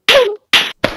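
The Talking Tom cat in the My Talking Tom mobile game gets hit three times in quick succession, each a short, bright cartoon smack with sharp onsets and gaps of silence between.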